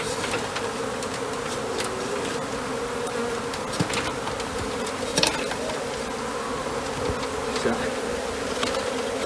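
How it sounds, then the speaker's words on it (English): Honey bees flying around a swarm being collected into a box, a dense continuous buzzing drone close by with occasional louder individual bees passing near, steady throughout. "they will start encouraging the other bees that are flying and that are still up here"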